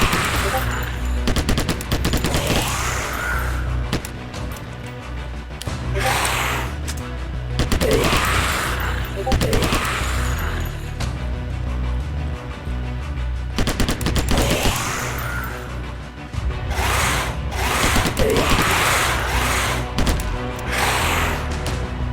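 Rapid bursts of automatic gunfire from video game weapons against waves of spawned enemies, loud and repeated in clusters with short pauses, accompanied by heavy booms and thuds throughout.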